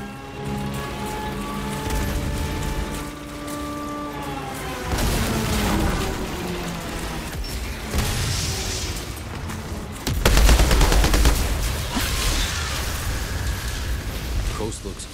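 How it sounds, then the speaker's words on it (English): Artillery strike in the shooter game Outriders, a string of heavy booms and rumbling blasts under a rising radio voice, with a louder, denser barrage of impacts late in the clip. "Artillery support incoming!"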